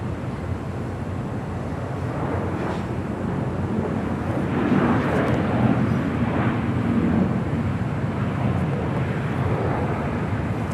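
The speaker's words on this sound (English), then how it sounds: "That was United Airlines Flight 2438 heading to Washington Dulles at the 737 MAX 9" United Airlines Boeing 737 MAX 9 jet taking off from Los Angeles International Airport, a steady broadband engine roar that swells slightly mid-clip, heard from a distance with wind buffeting the microphone throughout.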